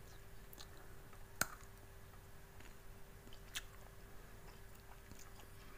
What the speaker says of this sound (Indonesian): jadi ini bisa dimakan ya bijinya kacang almondnya coba saya gigit ya